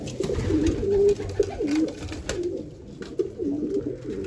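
Pigeons coo close by in repeated soft, throaty, rolling calls, several overlapping phrases at a steady rhythm with faint background noise.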